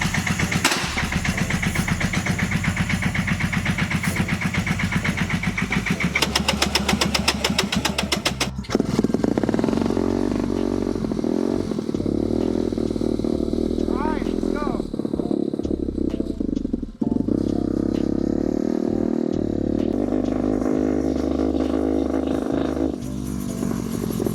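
220cc turbocharged mini jeep engine runs loud and close, a harsh buzzing rev that drops into a rougher, uneven idle with clattering and occasional sputters, and faint voices underneath.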